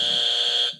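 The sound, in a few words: quiz buzzer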